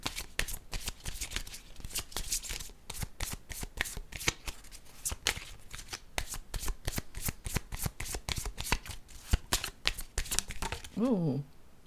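Playing cards shuffled for a tarot-style card reading, a long run of rapid riffling clicks close to the mic that ends in a brief tonal sweep.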